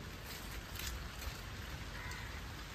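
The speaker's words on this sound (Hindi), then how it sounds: "अभी हल्की हो रखी है, थोड़ी बहुत बूंदाबांदी" Light drizzle falling outdoors in the evening, a soft, even patter of scattered raindrops on surfaces that stays faint and steady throughout, with no voices heard.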